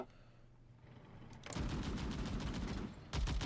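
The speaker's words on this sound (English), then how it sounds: "My anti-aircraft guns are booming." Anti-aircraft guns firing in Hearts of Iron IV, a quiet lull giving way to a dense, loud burst of rapid booming gunfire that continues, then a fresh, heavier volley at the end.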